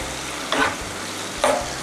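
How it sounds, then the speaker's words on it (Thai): Sliced vegetables tossed in a hot pan for a Thai fried fish dish with soy sauce, a steady sizzle and low hum broken by two distinct stirring scrapes about a second apart. "ใส่ผัก ที่เราซอยไว้ทั้งหมดเนี่ยลงไปเลย"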